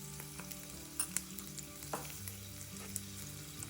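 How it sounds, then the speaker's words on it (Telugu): Ginger, garlic and turmeric frying in a pan over low flame, a steady close sizzle with a few soft stirring clicks and scrapes, no voices. "వీటన్నిటిని లో ఫ్లేమ్లో మాడకుండా వేయించుకోవాలి"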